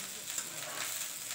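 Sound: fried rice frying and sizzling in a pan

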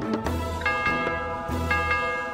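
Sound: bell ringing in video game Age of Mythology

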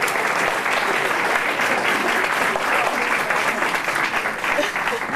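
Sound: applause

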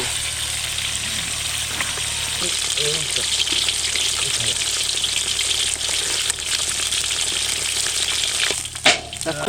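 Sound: Katla fish frying in a pan

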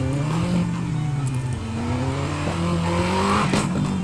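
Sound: Aston Martin V12 engine revving in Need for Speed Most Wanted video game

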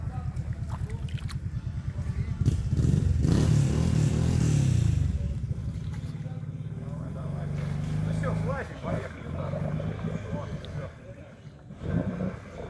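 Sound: Kawasaki Brute Force 750 ATV engine revving off-road

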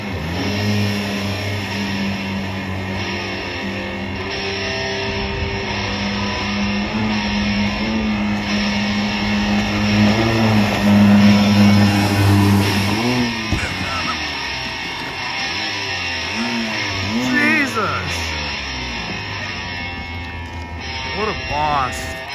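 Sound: Yamaha off-road vehicle engine revving

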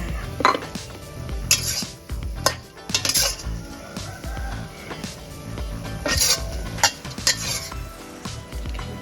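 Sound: scooping basil pork omelette from pan onto a plate

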